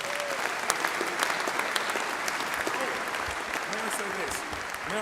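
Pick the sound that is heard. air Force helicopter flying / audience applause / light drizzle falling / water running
audience applause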